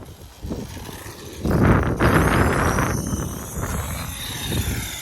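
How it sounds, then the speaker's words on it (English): Gusty wind buffets a microphone outdoors, loud low rumbling that swells sharply partway through and stays strong, with a faint high whine in the background. "Sorry if it's a little bit windy."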